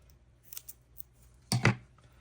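Scissors snip through a paper craft piece for a berry-themed summer card kit, a couple of faint light snips followed by one louder, close crisp cut lasting about half a second, with no talking.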